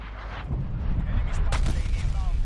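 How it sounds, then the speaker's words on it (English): Call of Duty Cold War gameplay fills with a dense, continuous rumble of artillery explosions and gunfire, loud and sustained, with a few sharper bursts breaking through. "that was a lot of explosions"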